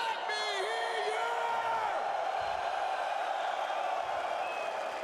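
Esports arena crowd in Astana during a PGL event roaring and whooping as a continuous wall of cheering, with a whistle-like tone sweeping early on.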